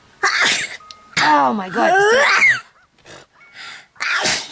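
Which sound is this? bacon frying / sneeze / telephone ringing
sneeze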